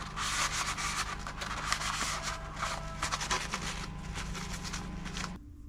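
Rubbing alcohol being rubbed onto a model airplane nose cone, a close, steady scratchy rubbing with repeated back-and-forth strokes, faint and continuous, then stopping.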